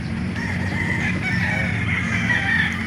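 A young gamefowl bullstag crows at a chicken market, a drawn-out call in the middle distance over a steady murmur of market noise, with no speech.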